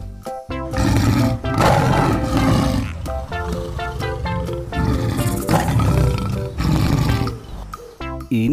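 A white lion roars loudly and at length, with deep, rumbling, sustained bellows that swell and fade over several seconds, close and dominant.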